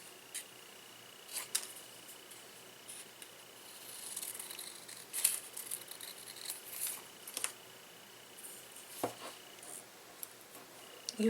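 Scissors snip paper pieces for a travel notebook, quiet crisp cuts in scattered clusters with short pauses and faint paper rustling between them, close by in a calm room.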